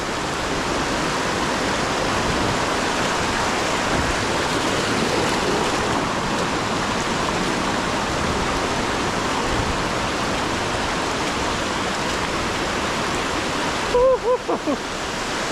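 Hidden Falls pours as a loud, steady waterfall roar of rushing water filling the whole stretch without letup, with a brief voice near the end.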